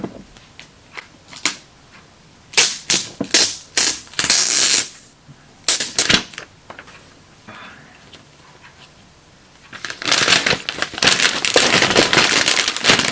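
Crisp crackling and rustling bursts as protective plastic film is peeled off a new 2018 sixth-generation iPad, coming in short close bursts, then a sustained crinkling stretch toward the end, with no talking.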